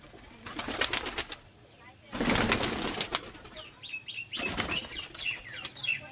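Kaldoma pigeons beat their wings in loud, close bursts of flapping, with a few scattered coos and chirps between the flurries.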